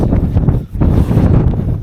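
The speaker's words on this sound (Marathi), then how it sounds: "झांग्यातून खूप खतरनाक वारा मारतोय" Loud, blustery mountain wind at Rajgad fort buffets close to the microphone in a continuous roar, briefly dipping before gusting again.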